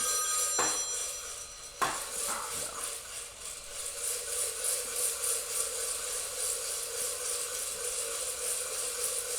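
A telephone rings with an incoming call during a home coffee roasting session, its repeated bright trilling bursts steady over a constant hum of roaster noise.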